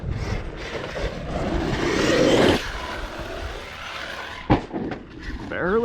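An Arrma Outcast 8S EXB RC car at full throttle while airborne gives a loud, sustained broadband roar that builds and then cuts off sharply, followed by a brief thump and scattered clatter, with people talking over it.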